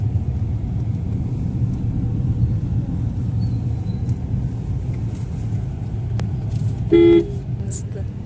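Steady road traffic rumbles on a bridge in Chhattisgarh, with a short loud car horn honk near the end and a voice talking over it.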